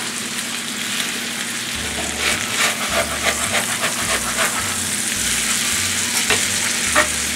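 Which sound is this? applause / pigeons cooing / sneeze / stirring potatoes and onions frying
stirring potatoes and onions frying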